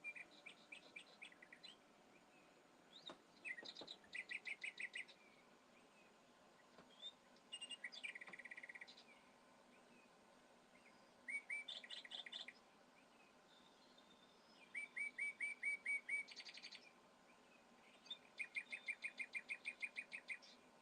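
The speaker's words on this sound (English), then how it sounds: "Ah, there he is, my chirpy friend." A pet bird chirps in faint, quick trilling bursts that come and go in a loose repeating rhythm over a quiet indoor background, with no talking.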